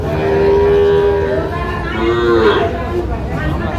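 Sahiwal bull calves at a Tangail livestock market moo nearby, one long sustained low call followed by shorter lowing, over a steady murmur of crowd chatter.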